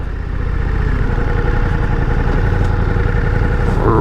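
A 2024 Ducati Diavel V4 motorcycle engine running with a steady, loud mid-pitched drone and fine rhythmic pulsing, close by, alone.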